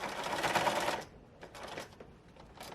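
Sewing machine stitching around a ruffled pillow made from IKEA duvet cover fabric, a close burst of rapid mechanical stitching followed by shorter, quieter runs and pauses.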